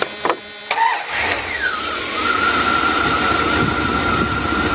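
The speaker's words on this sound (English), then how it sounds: "what we're going to do is start the vehicle up" A 2000 Dodge Ram Van B1500 with an idle control system fault cranks in a few quick pulses, then settles into a steady idle with a whine that drops in pitch and holds, heard close with no talk.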